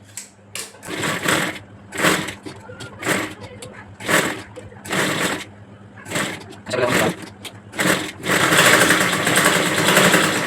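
A sewing machine stitches fabric pieces for a five-year-old girl's frock in loud repeated bursts of rapid whirring, each lasting about a second with short pauses between, ending in a longer continuous run.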